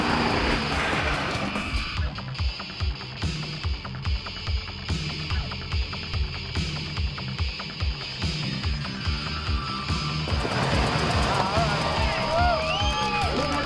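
Short course off-road race cars roaring past on a dirt track, with a steady loud engine drone and rhythmic revving pulses, and a voice talking briefly near the end.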